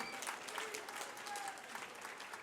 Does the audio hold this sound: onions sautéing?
no